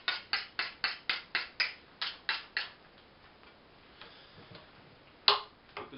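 A knife being sharpened before cutting meat for coyote bait, heard as a quick series of about ten rhythmic metallic strokes, then a pause and a few more isolated scrapes, close and fairly clear.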